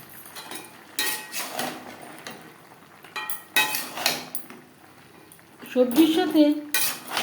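Pointed gourd and jackfruit seeds are stirred with mixed vegetables in a pot, a metal spoon clanking and scraping in several separate bursts of varying loudness, with a few brief spoken words.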